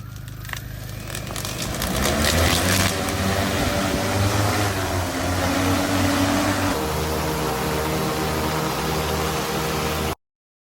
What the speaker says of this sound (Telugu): డ్రోన్ అయితే లేపిన